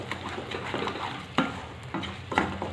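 A spoon stirs sugar into sheera, a sweet semolina dish, as it cooks in a pan. The near, rhythmic scraping and shuffling sits over a faint sizzle, with a few sharper scrapes.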